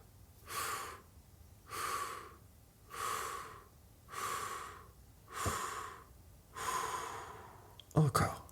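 Slow, drawn-out exhalations repeat in an even rhythm during a calming relaxation breathing exercise, six long breaths out, each close and soft, separated by short quiet gaps, with a brief rustle at the end.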